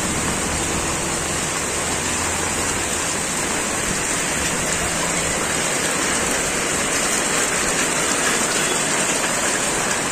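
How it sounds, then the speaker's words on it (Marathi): Heavy monsoon rain pours down steadily in Virar, a dense, loud roar of water with no letup throughout. "पाऊस बघा काय पडतोय, तुफान"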